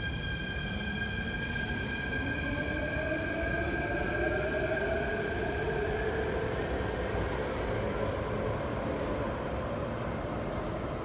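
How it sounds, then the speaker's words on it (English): An MTR train pulls into Tung Chung Station, a loud steady rumble of rolling wheels with rising and falling whining tones from the motors as it comes in. "you will see a terminating train upcoming"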